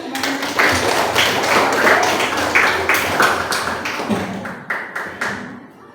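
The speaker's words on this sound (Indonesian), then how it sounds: "tepuk tangan dulu dong" Schoolchildren in an elementary classroom clap their hands together in a quick, loud burst, many hands close by in a rhythmic patter that slows into a few final claps.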